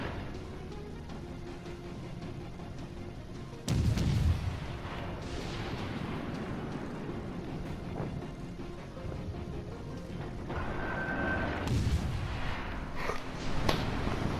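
Naval guns fire in a World of Warships sea battle: heavy booming salvos and explosions strike at intervals over a steady low rumble of engines and water, fairly loud and fully alone without talk.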